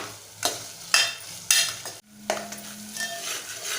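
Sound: sautéing tomatoes for spicy chicken curry

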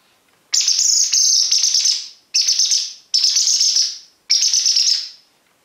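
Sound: song thrush call imitated with a bird call lure

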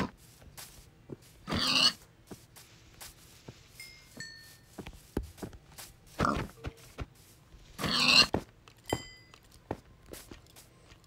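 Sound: pigs oinking in Minecraft video game

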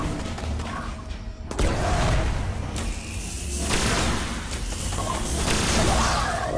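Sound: grenade explosion in Destiny video game

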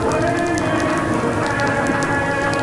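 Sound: rain falling

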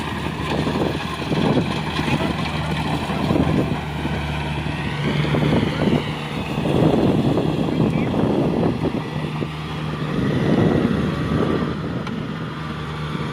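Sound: strong wind blowing across the microphone

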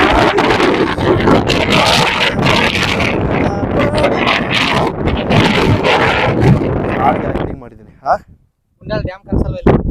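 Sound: strong wind blowing on a hilltop

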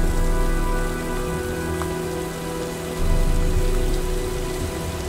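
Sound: storm rain in video game Heavy Rain

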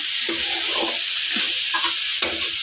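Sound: sautéing cauliflower mixture with coriander

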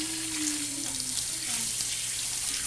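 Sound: tap water running while rinsing hands

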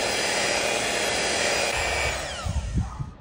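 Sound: whipping honey with a power mixer

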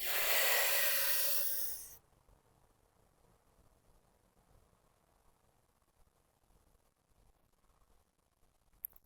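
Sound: breathing during Sitkari cooling pranayama, exhaling through the nose

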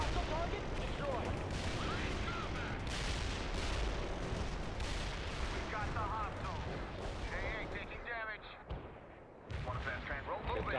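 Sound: gunfire and artillery in World in Conflict video game

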